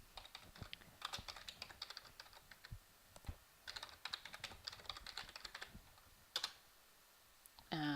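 Computer keyboard keys tapped in quick bursts while an SSH command is entered, close and fairly quiet, with short pauses between runs of keystrokes and no talking.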